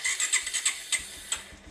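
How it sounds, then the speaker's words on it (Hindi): A Bajaj Pulsar 125 motorcycle cranks on its electric self-start with a series of quick whirring, squealing starter pulses, heard close up and alone. "बाइक सेल्फ से स्टार्ट किया, देखिए सेल्फ से स्टार्ट कर दिए हैं।"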